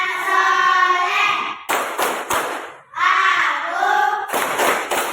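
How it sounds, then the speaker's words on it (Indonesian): A class of schoolchildren in an Islamic religion lesson performs the 'tepuk anak soleh' chant, with sung voices alternating with sharp bursts of rhythmic group clapping. "tepuk anak soleh dulu, nak ya"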